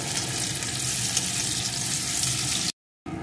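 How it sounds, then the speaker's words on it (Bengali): Chopped onion frying in hot oil for spicy patishapta filling, a dense, loud and continuous sizzle heard up close that cuts to brief silence near the end, then resumes. "এখন পেঁয়াজ কুচিটা একটু লাল লাল করে প্রথমে ভেজে নেব"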